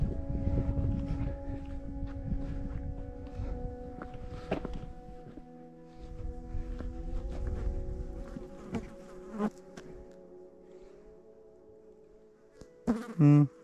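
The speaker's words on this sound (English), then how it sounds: "Bugs swimming around." Insects buzzing around near a station in a canyon, a steady droning hum with some notes shifting in pitch, close and continuous, with a louder knock near the end.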